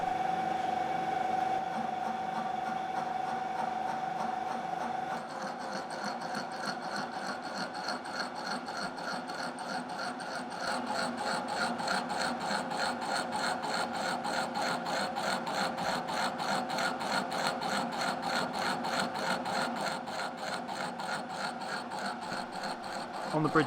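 A Bridgeport milling machine cuts under quill auto feed with a continuous grinding, rasping sound that turns into a fast, even rhythmic chatter partway through. The sound is faint and steady, with no talk.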